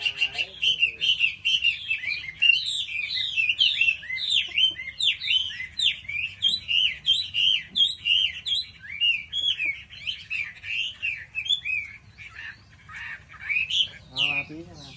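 A wild mộc dở bird, newly brought home, chirps and tweets repeatedly in quick bursts of bright, rising and falling calls, close and lively throughout.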